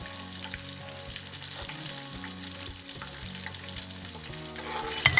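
Shrimp dropped into vegetable oil heated to about 350 degrees fry with a steady, close crackling sizzle, joined by low rumbling and brief clinks near the end, and no voices.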